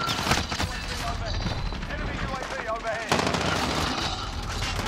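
Rapid bursts of automatic gunfire from a shooter video game crackle loudly and continuously, with a voice talking over the shooting.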